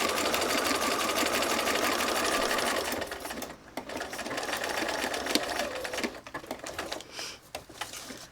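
Sewing machine stitching an envelope made from painted paper bags: a rapid, steady mechanical needle clatter running continuously, briefly slowing and restarting, close and clear.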